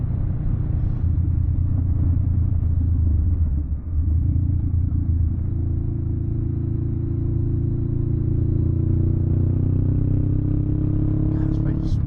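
Low engine rumble from a 2022 Honda Rebel 500 ABS motorcycle underway, with a steady deep drone and a slowly rising tone as it gains speed, heard close with wind noise and a voice over it.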